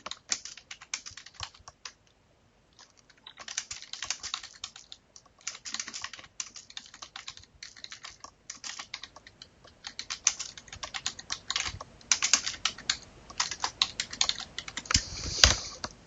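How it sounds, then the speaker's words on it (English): Typing on a computer keyboard comes in quick bursts of close, crisp key clicks separated by short pauses. "now I've got to type in a description."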